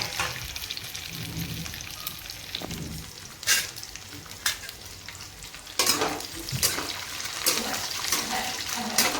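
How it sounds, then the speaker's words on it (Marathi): Coconut, chilli, coriander and garlic roasting in a pan for a bitter gourd dish, a steady close sizzle with scraping stir strokes and a few sharper clatters, no voices. "तर आता हे सगळं सारण भाजून घ्यायचं आहे"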